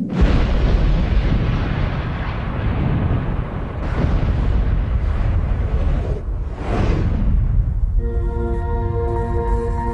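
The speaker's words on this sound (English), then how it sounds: "explosive experts detonate the dynamite." Deep, rumbling dynamite explosions roar continuously, with a few swelling blasts rising over the din before a ringing tone cuts in near the end.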